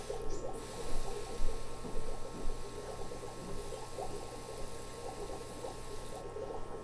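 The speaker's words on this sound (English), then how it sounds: "Now we'll water it in a little bit" Water poured onto the soil of a rose bonsai makes a soft, steady trickling and gurgling at low volume, continuous for several seconds with faint irregular splashes.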